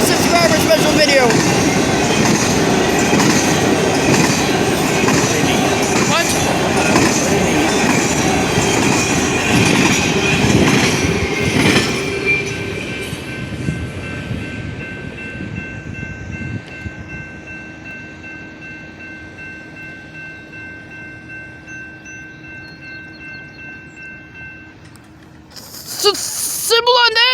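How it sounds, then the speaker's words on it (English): A Norfolk Southern freight train, symbol NS 256, rumbles loudly past at Maumee Street with rolling wheel noise and squeals for about twelve seconds, then fades to a quieter drone with a sustained tone; a sharp burst of noise returns near the end. "Symbol on that train was NS 256"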